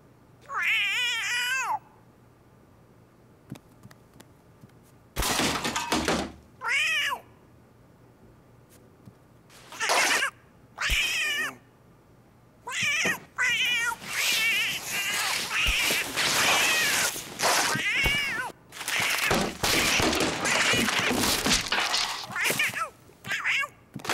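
A house cat meows repeatedly in a home, with loud, drawn-out calls, some rising into caterwauling wails, separated by short silences and then coming in a dense run near the end.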